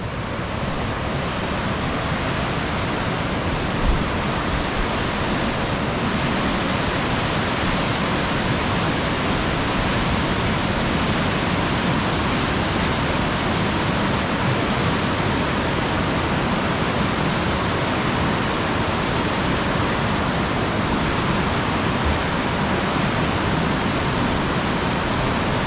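River water rushes steadily in Uji, a loud, continuous broadband roar close by with no pauses.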